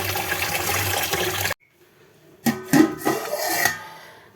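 Raw rice is rubbed and rinsed in water by hand, with a few close splashing, swishing bursts after a louder, steady stretch that breaks into a brief near-silence.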